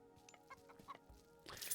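Chickens in the video game Mythic Wars cluck softly in a quick, uneven string of short calls, quiet and close, with no talk over them.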